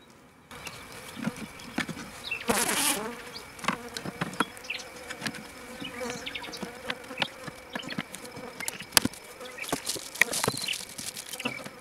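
Honey bees buzzing around an open garden hive being fed syrup, a steady close drone with individual bees zipping past the microphone and a few soft knocks.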